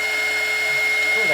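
Hair dryer blowing steady air over doll parts, a continuous whirring hum with a high whine held throughout.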